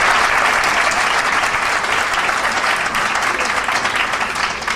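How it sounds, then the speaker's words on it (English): Loud, dense applause from an audience at a hair show gathering fills the space, continuous clapping without a break from start to finish. "Give a round of applause for Mr. Tucky."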